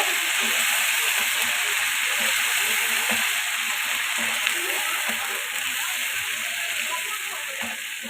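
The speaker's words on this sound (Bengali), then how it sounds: "এখানে আমার আদা রসুনের পেস্ট আছে এবং আমি এখন মশলাটাকে একটু ভালো করে একটু কষিয়ে নিব" Masala with ginger garlic paste sautés in a pan for a spiced beef tripe dish, a steady dense sizzle and hiss with faint scraping stirs underneath, close and even throughout.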